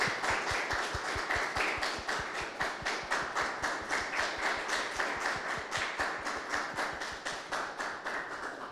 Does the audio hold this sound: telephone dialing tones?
no